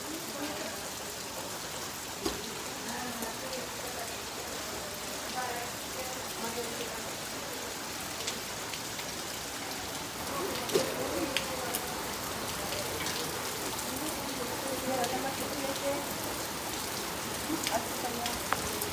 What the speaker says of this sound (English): Guys, it's raining right now.